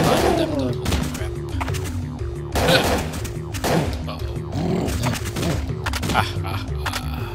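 Single-shot assault rifle fire in Parasite Eve II, heard as a rapid string of loud, punchy shots with heavy thuds and crashes layered over game music.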